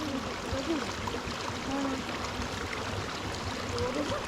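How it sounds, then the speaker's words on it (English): A waterfall and a flowing river in Ethiopia make a steady, even rush of water that fills the whole stretch, with no voices over it. "You listen the sounds of this waterfall."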